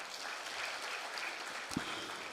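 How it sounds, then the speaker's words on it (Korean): Church congregation applauding in thanks to God during a Sunday service, a steady, moderately distant wash of clapping with one brief louder thump near the end. "우리 하나님께 감사 박수 한번 올려드립니다."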